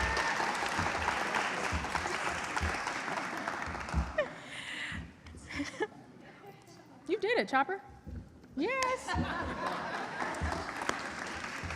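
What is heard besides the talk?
audience applause welcoming mascot Chopper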